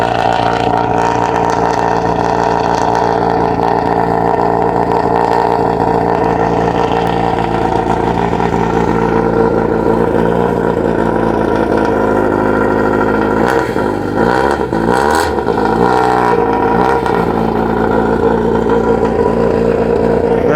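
A Porsche 962 LM race car exhaust idles and revs loudly nearby on a street in Japan, a raspy, rowdy drone with several sharp throttle blips toward the end.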